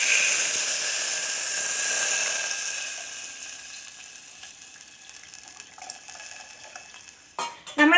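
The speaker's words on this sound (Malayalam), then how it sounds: "ഇതിലേക്ക് നമ്മൾക്ക് ഈ പുളി പിഴിഞ്ഞ വെള്ളം ഒഴിച്ചു കൊടുക്കാം." Tamarind water hits a pan of fried onions and chillies: a loud hiss and sizzle bursts at first, then fades to quieter bubbling and scattered ticks, ending in a few sharp clatters close by.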